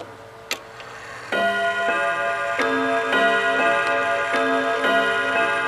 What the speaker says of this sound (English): So it goes ding dong at the quarter hour.